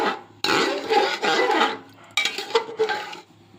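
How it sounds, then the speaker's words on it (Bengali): A metal lid scrapes and clanks onto a cooking pot of pea pulao, in two separate bursts of rasping metal contact with a short pause between, close up and with no speech. "এবার ঢেকে রাখবো।"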